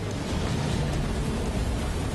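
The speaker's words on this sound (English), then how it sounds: "Then comes the heavy rain." Dense, steady rain hisses continuously, a heavy downpour at sea at night with a low rumble underneath.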